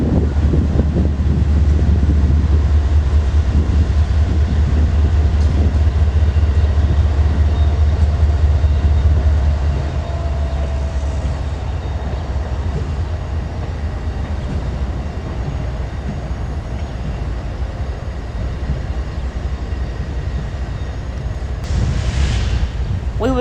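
A CSX freight train passes the Manchester, Georgia stop with a loud, close, heavy low rumble for about ten seconds, then eases into a softer steady roll with wind buffeting the microphone throughout.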